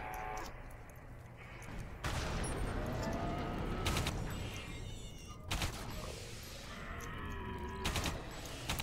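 A human assault rifle in the Alien Breed: Impact video game fires in several loud bursts over dense, busy background noise.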